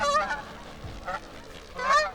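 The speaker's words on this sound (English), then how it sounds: "I'm gonna have to wait till these geese go by because they're too darn loud" Loud geese honking in bursts, a flurry at the start, a brief call mid-way and another loud burst near the end, close by.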